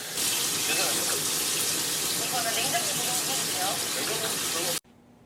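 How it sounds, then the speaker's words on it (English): Running water from a home shower, a loud steady hiss and splash that continues evenly before cutting off abruptly near the end. "I am now going to take a shower."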